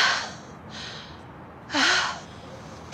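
Elderly woman gasping for breath in a Turkish TV drama scene, two or three sharp, breathy inhalations close up, the last one loudest with a strained vocal catch, no speech.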